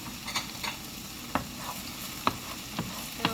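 Garlic tossed into sweated peppers and onions in a pan, a soft continuous sizzle broken by several clear spoon stirs and scrapes spaced out over a few seconds.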